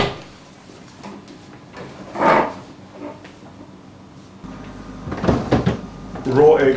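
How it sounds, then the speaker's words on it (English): A freezer door in a home kitchen is pulled open with an elbow, giving a soft thud and seal release, with low clatter around it while people talk nearby. "The best is to open the door with your elbow."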